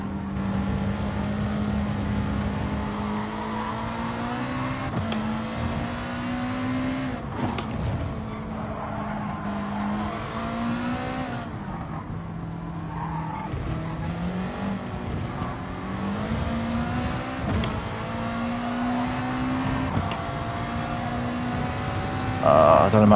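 Race cars roar in a racing video game, a continuous engine whine that climbs and drops with gear shifts and braking, staying loud and close the whole time.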